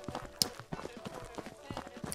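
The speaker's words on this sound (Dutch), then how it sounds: "Hier kunnen we waarschijnlijk ons paard neerzetten" Horse hooves clip-clop in an irregular run of soft thuds in the Cowboy Life Simulator game, heard under someone speaking Dutch, with a brief sharp click partway through.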